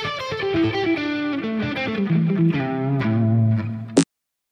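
A clean, bluesy electric guitar phrase with reverb plays a few sustained, bending notes in a slow melodic line, then stops abruptly with a final sharp pick attack.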